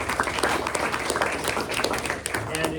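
An audience at a press luncheon claps for sponsors in a continuous, moderately loud spatter of hands, with a voice speaking over it toward the end.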